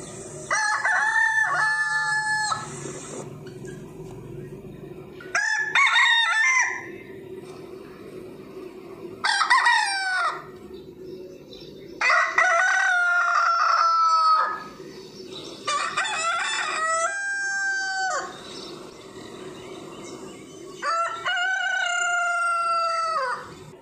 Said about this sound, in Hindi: चलो तो सुनते हैं हम मुर्गे की आवाज़।